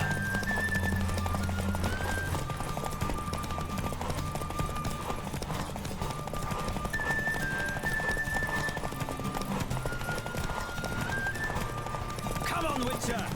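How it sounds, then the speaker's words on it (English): Horse hooves clip-clop at a steady gallop during a race in The Witcher 3, with occasional whinnies, under continuous game music and a talking voice throughout. "Don't spare the horse! I adore the speed, the rush of air!"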